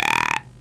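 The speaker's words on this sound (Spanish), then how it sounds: "Digo el abecedario eructando." Fry from Futurama burping: one short, loud, croaking belch with a buzzing tone that cuts off abruptly.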